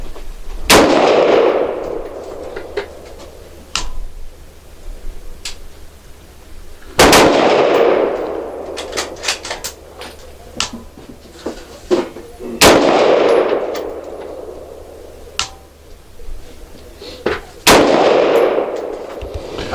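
Rifle gunshots at a busy shooting range, with sharp loud cracks at slow intervals, about four main shots each ringing out, plus fainter pops from other shooters between them.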